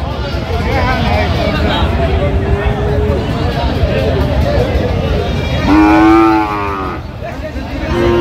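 Two top-quality Sahiwal bull calves at a busy Comilla cattle market: a loud, close moo stands out near the end, with fainter lows earlier, all over constant crowd babble and nearby talk.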